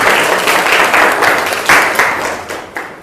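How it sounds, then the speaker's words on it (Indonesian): Classroom applause for students who have just presented: many hands clap loudly in a dense, continuous wash that swells and fades slightly in waves throughout, with no one speaking. "kita berikan tepuk tangan yang luar biasa"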